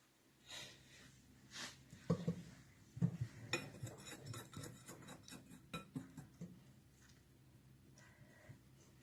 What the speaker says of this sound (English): Now, you're going to mix it up really well